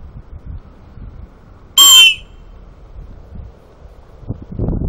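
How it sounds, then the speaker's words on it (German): Emergency whistle built into a folding knife, blown once in a short sharp shrill blast amid quiet outdoor rustling and wind. "hier ist eine Pfeife dran"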